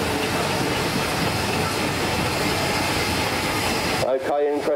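An old steam engine runs at a steam rally with a steady, loud mechanical rumble and churn, cut off abruptly near the end.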